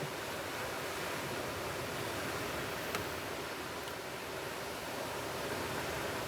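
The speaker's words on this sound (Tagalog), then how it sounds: "Yung hangin pa lang, yung sounds pa lang na naririnig mo, diba?" Continuous broadband rush of wind outdoors, steady and even like distant surf, with no voices.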